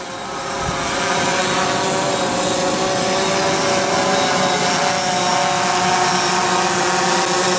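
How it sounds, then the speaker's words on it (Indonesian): A drone flies back toward its return point with a steady, loud propeller whir that swells in the first second and then holds constant, with no talk. "drone sudah mendekat dan sudah mau sampai tempat titik kembali"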